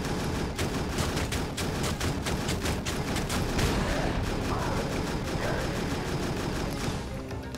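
Continuous heavy turret gunfire from Dark Maker turrets in the video game Jak 3, a loud, dense barrage of rapid shots and blasts that never lets up.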